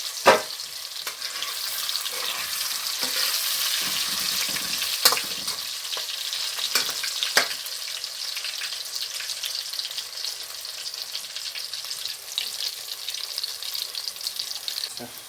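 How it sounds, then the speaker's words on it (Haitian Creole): Hot dogs frying in a pan, a continuous crackling sizzle with occasional sharp pops and utensil clinks, close and steady, with a few faint background voices. "ça c'est hot dog là qui a frit"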